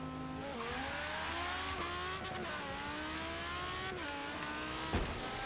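A racing car's engine revs in Forza Horizon 3, a steady high whine climbing and dipping in pitch as it accelerates, fairly quiet and continuous, with a brief sharp scrape near the end.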